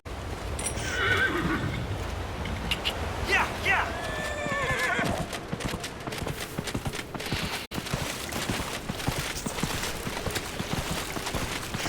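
Horse from the Dragon Age Inquisition video game whinnying loudly near the start, then hooves clip-clopping steadily at a walk over a busy game soundscape.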